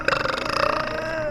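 A woman lets out a drawn-out burp, a loud guttural belch that bends slightly in pitch as it stretches over about a second.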